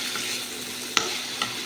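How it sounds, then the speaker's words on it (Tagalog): Ginger, garlic, onion and tomato sauté in a pan, making a steady hiss of frying, and a spatula clacks against the pan twice. "ginisa na po natin yung ating sangkap. Luya, bawang, sibuyas"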